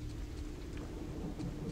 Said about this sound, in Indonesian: Kehujanan kita, guys.